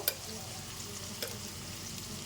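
Potato frying in a pan with a steady soft sizzle and a couple of brief utensil clicks, fairly quiet and close.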